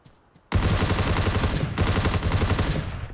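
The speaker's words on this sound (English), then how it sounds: "It's his suppressed rifle." Rapid suppressed rifle fire in the video game Ring of Elysium bursts in loudly after a quiet start, a dense run of shots with a brief break midway, and no voices.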